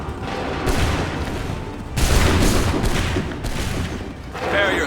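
Massed musket volleys in Assassin's Creed 3, with dense overlapping gunfire bursts cracking in several waves over a steady battlefield din and shouted commands.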